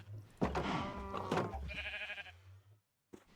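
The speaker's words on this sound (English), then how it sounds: "We do have sheep." Sheep bleat in a block-building video game, two or three wavering cries close together over a low steady hum, then a short gap and a brief knock at the end.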